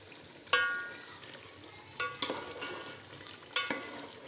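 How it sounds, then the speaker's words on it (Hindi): Beef with potatoes frying in a tomato and yogurt masala, giving a soft continuous sizzle broken by three sharp metallic stirring scrapes against the pot, close and without talk. "अब मैं इसकी भुनाई कर रही हूँ"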